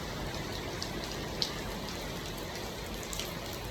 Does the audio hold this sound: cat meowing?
no